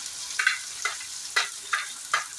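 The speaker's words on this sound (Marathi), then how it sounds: "कांदा टाकणार, आता उभा चिरून घेतलाय आपण कांदा।" Sliced onion hits hot oil seasoned with cumin and mustard seeds in a pan, giving five short, sharp sizzling bursts at a steady rhythm, close and clear with no talk.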